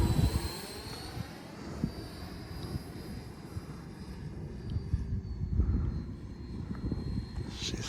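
An RC F-18C Legacy Hornet model jet with a 90mm electric ducted fan flying slowly with retracts, a steady airy whine and rumble carrying outdoors, fairly distant and continuous with gentle swells in loudness.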